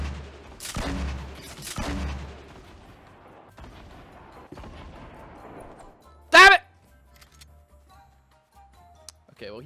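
Grenade launcher rounds fired in Fortnite: two heavy booming shots early on, scattered clicks, then a single sharp loud blast later, with quiet gaps between.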